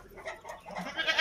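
Goats on a village farm bleat in a quick pair of calls, close and fairly loud, with no talk over them.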